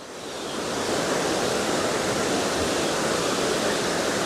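A powerful waterfall of white water on the Madhmaheshwar trek roars in a loud, steady, broadband rush, swelling over the first second and then holding constant and close.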